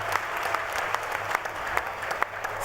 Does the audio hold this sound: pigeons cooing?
no